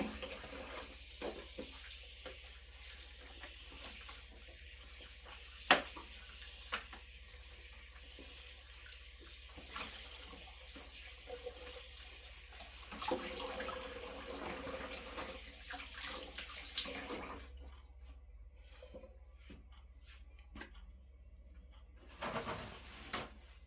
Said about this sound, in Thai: เดี๋ยวล้างน้ำก่อนนะจ๊ะ